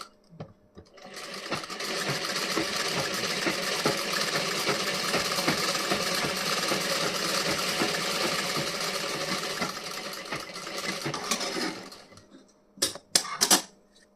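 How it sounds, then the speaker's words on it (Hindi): Sewing machine stitching the front part of a blouse, a steady, loud whirring hum running for about eleven seconds, then stopping with a few sharp clicks and knocks at the end. "तो यहाँ पे ये इस दोनों निशान पे मैं ऐसे स्टिचिंग कर दे रही हूँ"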